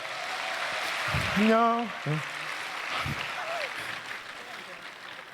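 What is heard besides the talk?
applause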